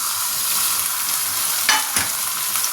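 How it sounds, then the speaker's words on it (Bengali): Onion frying in a pan as ginger, garlic, chili and tomato are added, giving a steady close sizzle with two brief stirring clatters. "পেঁয়াজটা হালকা ভাজা হয়েছে, এবার এর মধ্যে এই যে আদা রসুন লঙ্কা টমেটো সব একসঙ্গে দিয়ে দেবো"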